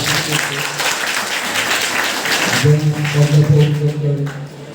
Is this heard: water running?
no